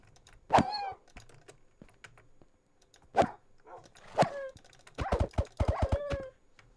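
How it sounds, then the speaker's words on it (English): Dogs in the Minecraft video game, several sharp separate barks and yips spaced apart, then a quick cluster of rapid barks near the end, with keyboard and mouse clicks faintly beneath. "Yep, taking out the dogs first."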